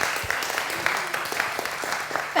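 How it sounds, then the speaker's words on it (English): Audience applause after two guests are introduced at a Startup Grind event, steady moderate clapping from a room-sized crowd throughout, with no talk over it. "could we give Terry and Bryan a big round of applause?"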